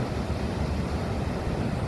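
Steady roar of ocean surf in La Union with wind buffeting the microphone, continuous broadband rush and no voices.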